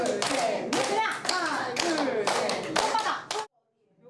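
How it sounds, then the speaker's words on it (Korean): A group in a dementia prevention class claps hands together in a quick rhythmic pattern with some taps, loud and close, with voices chanting along before it stops abruptly. "다른 교실에서는 손뼉치기 활동이 한창입니다."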